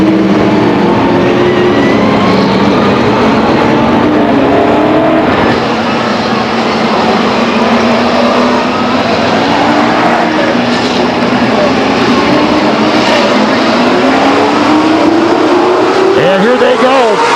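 Race cars roar past the grandstand at Stockton 99 Speedway in a loud, continuous drone, engines rising and falling, with an announcer talking over the noise.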